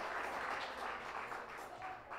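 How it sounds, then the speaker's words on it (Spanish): Steady applause from a church congregation at a Sunday worship service, a dense wash of many hands clapping continuously and fairly loud throughout, with no voices standing out. "Dele un aplauso al Dios bueno, a nuestro Padre Celestial."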